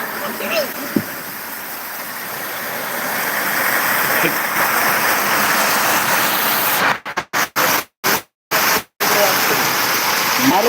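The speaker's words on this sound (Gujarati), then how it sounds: "ઉપરથી પાણીના કચુડા પડી રહ્યા છે" Heavy rain pours down from above onto a run-down house, a steady close wash of falling water broken by a few abrupt dropouts near the end.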